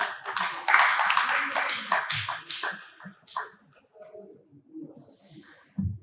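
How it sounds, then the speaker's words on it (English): A short burst of applause from a small group, clapping loudly for a couple of seconds before fading into scattered claps and quiet. "A round of applause"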